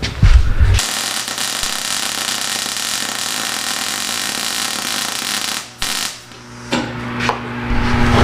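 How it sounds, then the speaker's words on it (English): A welder running during a test of an auto-darkening welding hood, giving a steady, loud buzzing crackle that holds for several seconds before cutting out, followed by quieter hum and clunks. "I'm going to get the welder turned on for him."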